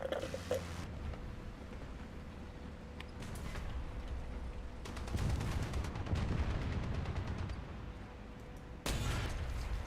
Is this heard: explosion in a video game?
yes